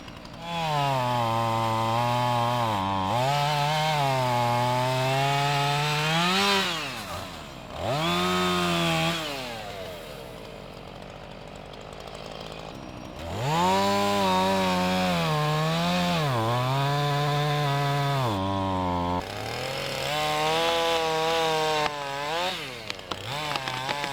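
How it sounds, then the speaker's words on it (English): Chainsaw felling trees, close and loud, its engine revving up and down in repeated bursts with pitch swoops as it bites and eases off, dropping to idle between cuts. "now the time has come to do some felling"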